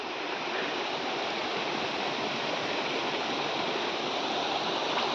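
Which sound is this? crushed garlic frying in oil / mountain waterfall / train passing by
mountain waterfall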